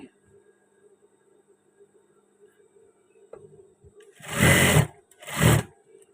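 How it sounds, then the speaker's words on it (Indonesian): An electric sewing machine stitching the left body panel of a batik shirt runs in two short, loud bursts after a quiet pause, the second burst briefer than the first. "Dan selanjutnya kita menjahit pas bagian badan yang sebelah kiri."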